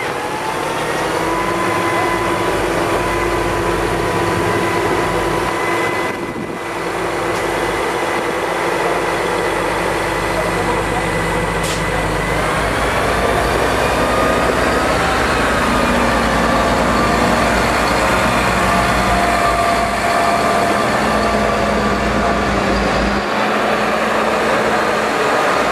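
Steady, loud drone of Massey Ferguson tractors and balers working in a field, a deep rumbling hum with mechanical clatter layered over it throughout.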